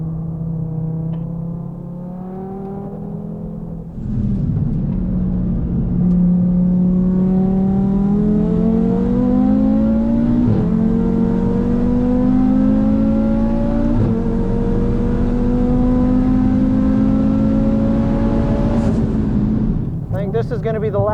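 An Audi race car on a track at a regional finals event, its engine loud and close throughout, revving steadily upward in pitch with a few brief gear-change dips over about twenty seconds.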